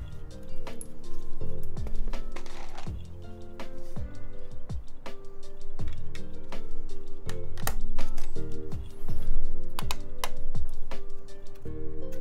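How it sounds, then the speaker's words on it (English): A loud mechanical keyboard is typed on steadily, sharp clacky keystrokes in quick irregular bursts throughout, with no talking. "I won't want my keyboard to sound like that because it's so loud"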